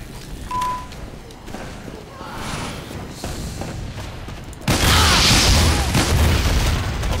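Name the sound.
sentry gun firing in the video game Team Fortress 2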